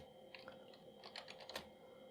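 Keys clack on the keyboard of an old Zetron 386SX computer running DOS, a handful of separate close taps and short bursts with brief pauses between them, no voices.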